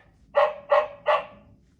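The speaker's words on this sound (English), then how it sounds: "Dog." A domestic dog gives three sharp, evenly spaced barks at close range, each one loud and clear with brief quiet gaps between them and nothing else in the background.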